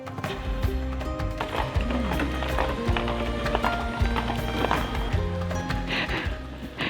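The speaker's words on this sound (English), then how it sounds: "On the way up, you'll see the horses and carriages walking the path." Horses pulling carriages clop steadily up a path near Neuschwanstein Castle in Germany, hoofbeats in a rhythmic clip-clop close by with wheel and harness noise and outdoor ambience.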